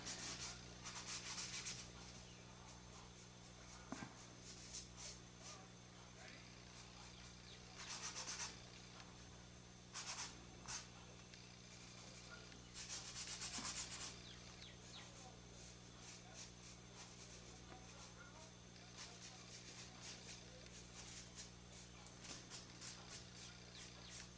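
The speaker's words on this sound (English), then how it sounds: "And rub it with your finger." A finger rubbing paint onto a toy wagon, producing soft, intermittent scratchy brushing strokes in short bursts separated by pauses, quiet and close over a faint steady hum.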